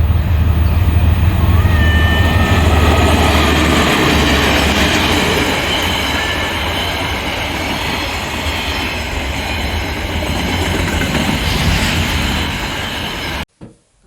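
A train passes close by, loud and steady, with a rumbling roar, rail clatter and faint wheel squeal across the whole pass before it cuts off abruptly at the end.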